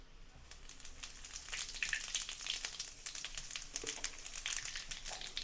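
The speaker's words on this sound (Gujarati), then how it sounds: "આપણું તેલ ગરમ થઈ ગયું છે. એની અંદર નાખશું જીરું." Cumin seeds hitting hot oil in a home kitchen pan, giving a steady crackling sizzle with sharp pops that swells after the first second and carries on at moderate, close level, alone without talk.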